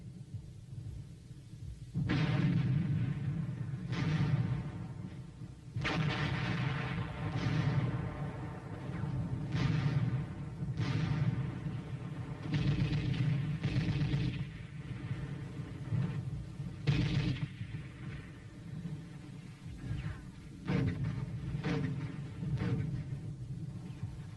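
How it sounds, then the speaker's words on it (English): Artillery, tank and mortar fire open an assault on Bloody Ridge in the Korean War, a series of distant booming blasts and rumbling reports at irregular intervals over a low continuous din. "Once again, artillery, tank, and mortar fire overtured the attack."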